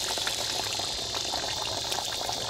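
Running water is hosed onto an outboard engine as it warms up, making a steady, loud, broadband rush that holds evenly throughout with no talking.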